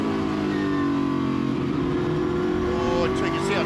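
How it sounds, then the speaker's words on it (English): V8 touring cars from the Touring Car Masters series roar down the main straight at The Bend, a loud sustained engine drone with rising harmonics throughout, under a commentator's voice. "the V8 power roars down the main straight here at the bend"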